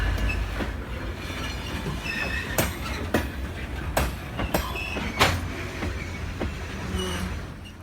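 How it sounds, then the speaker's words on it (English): A freight train of grain hopper cars on the former Katy Railroad in Missouri rolls past, steady rumble with rhythmic clickety-clack of wheels over rail joints and occasional squeals, fairly loud and continuous. "Today's train has quite a few hopper cars from grain elevators and feed mills in towns along the way."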